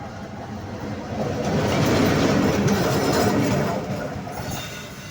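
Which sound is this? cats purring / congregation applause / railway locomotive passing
railway locomotive passing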